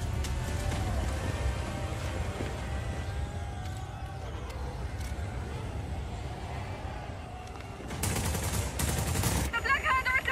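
Wing cannons firing in the Just Cause 4 video game: dense, continuous rumbling gunfire and explosions filling the scene, with sharper bursts of louder fire toward the end.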